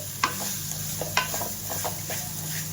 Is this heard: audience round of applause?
no